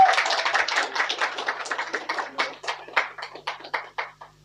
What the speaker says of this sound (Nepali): हुन्छ, ताली बजाइदिनु होला।